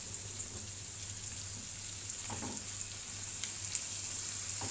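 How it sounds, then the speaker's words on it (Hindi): Broadband sizzle of a handful of cashews frying in a pan for malai kofta gravy, a steady close hiss with small crackles and a low hum underneath, no talk. "और अब मैं इसमें 1 मुट्ठी काजू डाल दूंगी।"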